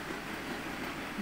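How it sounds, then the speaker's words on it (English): A train rolls along the tracks in the railway strategy game Sweet Transit, a low, steady rumble that carries evenly through the whole short stretch with no talk over it. "we have a train rolling around"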